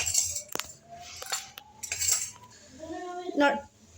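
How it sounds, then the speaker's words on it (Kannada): Cooked dry fish and field bean curry being moved onto a plate, with several sharp metal clinks of a spoon against dishes and pans, close and clear with short pauses between. "ಇವಾಗ ಇದನ್ನು ಒಂದು ಪ್ಲೇಟಕ್ಕೆ ತಗೋತಾ ಇದ್ದೀನಿ"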